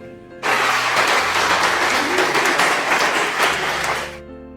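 A classroom of students applauds together during a microteaching lesson, a loud, dense burst of clapping close by that holds steady for several seconds before tapering off, with faint voices around it.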